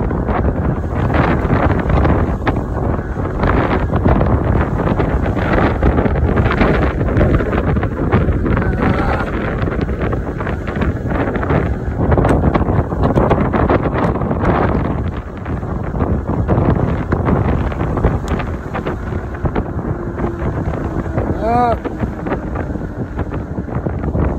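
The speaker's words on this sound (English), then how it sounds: "The wind is blowing too hard, way too hard." Strong wind roars into the microphone throughout a fast e-bike ride at about 23 mph, a loud continuous buffeting rush that never lets up.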